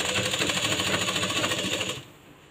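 A sewing machine runs a fast, steady stitch along a blouse neckline for a double seam, close and continuous for about two seconds before stopping abruptly into quiet room tone.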